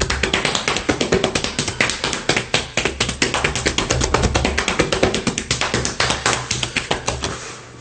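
Hands pat rapidly and steadily over arms and legs during a self-massage in a meditation session, giving a dense, even run of soft, close slaps with no talk over them.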